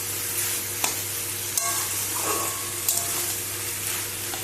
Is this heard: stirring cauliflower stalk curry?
yes